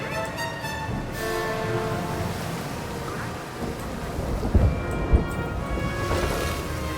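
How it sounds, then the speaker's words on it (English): A thunderstorm in Jurassic World Evolution brings steady rain hiss with low rolling rumbles and a couple of sharp, booming thunder hits near the end. "It's hard to drive here during the storm"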